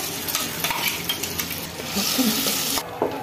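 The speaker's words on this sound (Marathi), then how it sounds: "हे फोडणीत आपण हे मिश्रण घालून घेऊया।" Corn mixture hits a hot tempering of oil, mustard seeds, cumin, asafoetida and turmeric, giving a loud, steady sizzle with stirring scrapes and a few utensil clinks across the whole stretch, no voices.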